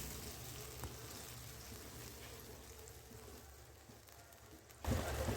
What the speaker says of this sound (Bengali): ও পেস্টটাকে তেলের মধ্যে দিয়ে ভালো করে এবার কষিয়ে নিচ্ছি